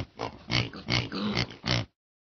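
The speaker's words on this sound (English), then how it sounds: "Pig." A pig grunts and oinks in a run of five close, loud snorting bursts in quick succession, then falls silent.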